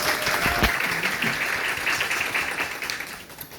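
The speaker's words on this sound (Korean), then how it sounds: "우리 피아니스트 양찬영 피아니스트를 박수로 맞이해 주시면 감사합니다." An audience claps in a sustained round of applause for a pianist during a musical's closing-performance curtain call, dense and even, slowly tapering toward the end.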